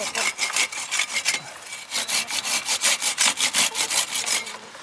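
A Silky pruning saw cuts through water shoots on a 12-year-old apple tree, giving a steady run of rapid, rhythmic rasping strokes, close and loud, with no talk over it.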